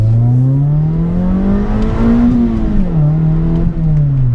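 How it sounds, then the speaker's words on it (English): A modified Suzuki Swift Sport with a 1.6 litre engine revs loudly and close, the pitch climbing, dipping, then rising again in one continuous drone. "Good little soundtrack to it as well, pops and bangs"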